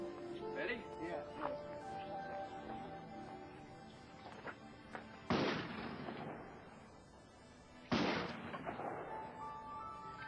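A shotgun chambered for 2 3/4-inch shells fires a 3-inch Magnum shell in two loud, sharp blasts several seconds apart, each followed by a long decaying echo, with people talking in the background.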